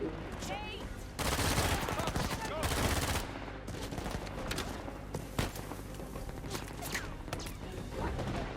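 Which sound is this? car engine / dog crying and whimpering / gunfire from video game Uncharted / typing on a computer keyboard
gunfire from video game Uncharted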